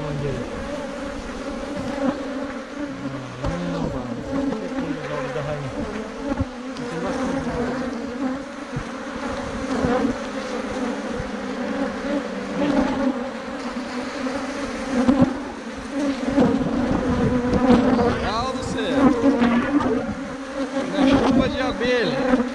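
Giant swarm of bees buzzing loudly and continuously close by during a hive removal on a farm, a dense droning hum with individual insects passing near, and people talking briefly at times.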